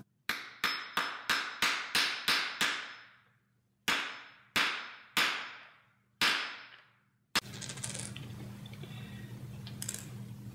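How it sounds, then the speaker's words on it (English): Sharp metallic hammer strikes ring out in a quick run of seven, then four more spaced blows, building a shade cloth canopy frame outdoors, followed by a steady background rumble. "start beating again with the hammer."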